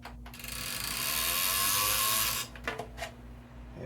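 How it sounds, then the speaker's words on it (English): A zip tie is pulled tight around cables inside a desktop PC during a build, making a continuous ratcheting zip for about two seconds. It is followed by a few sharp clicks and handling taps close by. "That's going to need a zip tie, I think."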